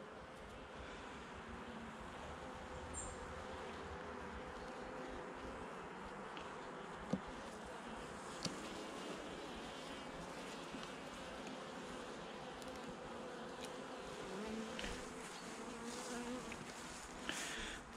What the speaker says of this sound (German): Das ist ein sehr großes Bienenvolk.